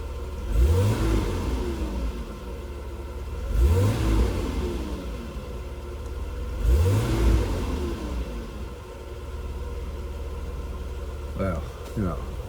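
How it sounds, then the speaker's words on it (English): A 1992 Mercedes W124 engine, which has been hard to start, revs up three times in sharp bursts over a steady idle, each rev rising and falling back, heard up close. "Let's see if it revs out good."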